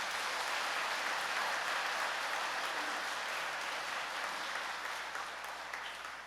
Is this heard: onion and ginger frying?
no